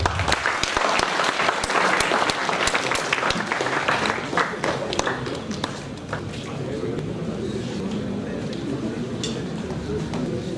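An audience at an Indian college development-dialogue event applauds to welcome the principal to the stage. The clapping is dense and sustained, loud and close at first, then easing slightly into a steady wash of hands.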